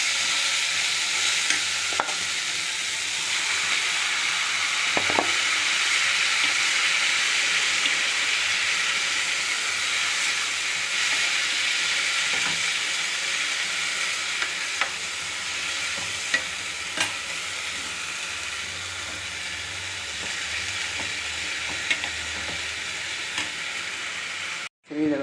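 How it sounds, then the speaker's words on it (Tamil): Cowpeas (karamani) frying in a pan make a continuous loud sizzle with scattered scraping stir clicks, steady until an abrupt stop at the end. "இந்த காராமணி இதில் கலந்து"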